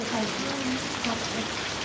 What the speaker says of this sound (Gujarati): પૂરા વરસાદ આવે હે